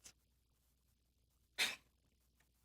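A single sharp sneeze bursts out in a quiet room, with a faint breathy intake before it and another brief noise at the very end.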